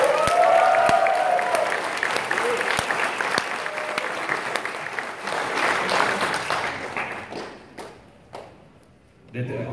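A crowd at the Comic-Con Hasbro Marvel Legends panel applauds and cheers, loud at first and then fading out. Voices can be heard through it and after it.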